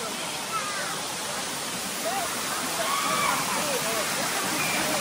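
Steady broadband rush of the Paalakondalu waterfall in Kadapa, a continuous roar of falling water close by, with faint voices mixed under the noise.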